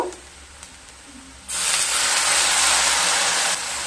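Water poured into a hot pan of Kashmiri chilli spice masala for a Goa-style potato fry sets off a sudden loud, sustained steam hiss that starts partway through and stays strong to the end, close up with no talk.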